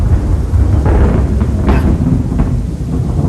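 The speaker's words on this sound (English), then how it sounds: "We're dealing with a little bit of rain out here." Rain falls outdoors during a backyard grilling session, a loud, dense steady wash with a low rumble of thunder rolling underneath, close and continuous with no talking.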